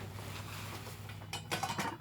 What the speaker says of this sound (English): Nice lightweight set for cooking with